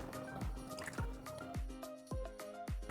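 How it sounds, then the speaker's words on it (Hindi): Water poured into semolina chutney in a bowl, giving a steady series of wet drips and plops with short liquid squishes repeating about every half second. "ये थोड़ा सा और पानी डालते हैं।"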